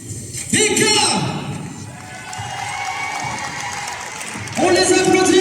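A dance festival audience claps and cheers in a sustained, dense wash of crowd noise, while an announcer's amplified voice speaks over it and swells near the end.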